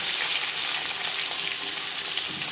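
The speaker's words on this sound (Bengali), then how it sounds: "সবার প্রথমে মাছ ও মাছের মাথা ভেজে নেব" Fish pieces and fish heads sizzle steadily in hot oil for a Bengali fish curry with taro, a dense, even hiss that runs throughout without any talking.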